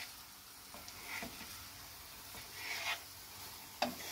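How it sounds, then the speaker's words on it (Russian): Eggs and tomato fry quietly in a pan while being stirred, giving a soft sizzle with occasional scraping strokes, faint and close, with no voices. "теперь перемешиваем это все"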